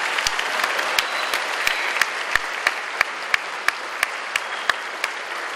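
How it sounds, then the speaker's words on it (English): A school fall concert audience gives a big round of applause, a loud continuous wash of clapping with sharp individual claps standing out in a steady rhythm near the microphone. "So big round of applause for Joanne Kramer."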